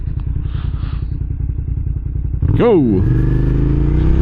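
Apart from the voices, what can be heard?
2006 Suzuki SV650S motorcycle riding and accelerating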